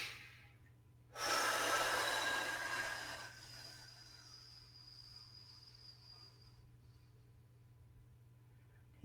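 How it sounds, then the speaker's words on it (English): A deep inhalation during a shiatsu breathing exercise for the lungs, heard as one long, close breath that swells and then slowly fades. A faint whistling tone lingers afterward, over a quiet steady hum. "Okay, and again, breathing in."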